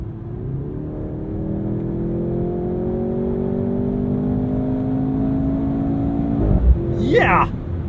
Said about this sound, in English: Instead, we're hearing that turbo 4 sound like a hot hatchback, but it's characterful,